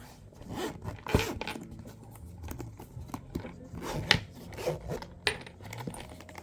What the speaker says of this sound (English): it's got nice zippers there